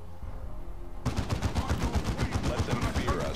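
Space Marines in Dawn of War 2 open up with rapid, loud bursts of gunfire, a dense rattling volley that starts abruptly and keeps going without pause.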